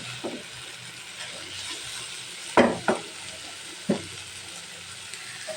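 Fish roe frying slowly in a pan sizzles steadily, with a few sharp scrapes and clinks of a spatula against the metal, no voices.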